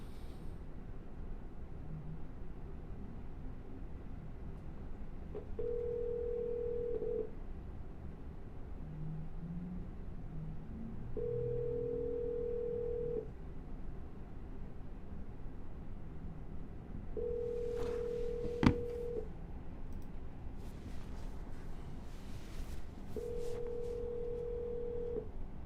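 Outgoing phone call ringing after dialing, four evenly spaced ringback tones each about two seconds long with long gaps between them over steady low line hiss, plus one brief sharp click near the end.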